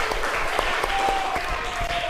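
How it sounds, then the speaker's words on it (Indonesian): A primary school class applauds a student after a group presentation, a brief burst of many small hands clapping together in a classroom, close and lively. "Kita berikan tepuk tangan yang meriah untuk Asriadi."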